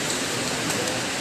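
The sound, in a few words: heavy rain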